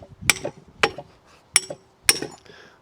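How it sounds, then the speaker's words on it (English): A big hammer strikes a welded metal test piece clamped in a vise, four sharp ringing blows spaced about half a second apart, close and loud with no speech. "We'll put it in the vise and we'll give it a little bit of a knock"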